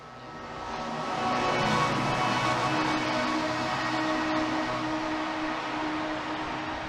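A BART train rumbles steadily through a tunnel, a broad continuous roar with rising and falling mechanical tones, heard from inside the car with no talking.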